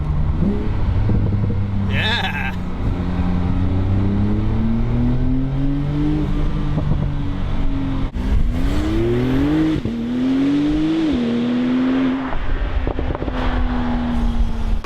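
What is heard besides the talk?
Porsche 911 Turbo S engine, turbo and exhaust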